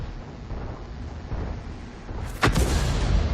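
A self-propelled artillery gun fires in World of Tanks: one heavy, booming shot lands sharply over a steady rumble of battlefield ambience, followed by a lingering low roar.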